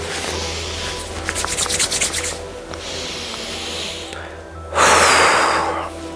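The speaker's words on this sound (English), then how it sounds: "give the hands a bit of a rub, the face, maybe brush the hands through your body" Hands rub together during a self-scanning and nourishment practice, a close, breathy friction that swells in bursts with quieter rustling between and a louder stretch near the end.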